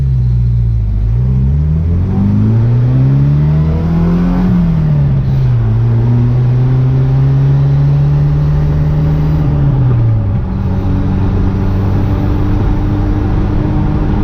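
A Jeep Wrangler TJ with the 2.5 engine and five-speed manual drives steadily, its engine droning loud and close as it revs up through a gear change, dips, then holds a cruising hum with road rumble.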